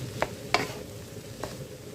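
A utensil stirring leftover cooked rice with kangkong in a hot pan, three distinct scraping strokes over a low, steady sizzle, heard up close without talk.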